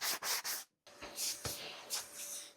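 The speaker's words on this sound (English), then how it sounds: "Lots of card scraping and sanding." Card scraper and sandpaper working over dried Gorilla Glue squeeze-out on a wooden lamination, giving short, close, breathy rubbing strokes in a few bursts with a brief pause between.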